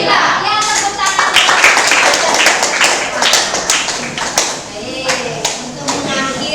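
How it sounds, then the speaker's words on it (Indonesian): Schoolchildren in a classroom clapping in rhythmic patterns, crisp, loud claps in quick bursts with children's voices chanting and talking throughout. "Ya, tepuk tangan."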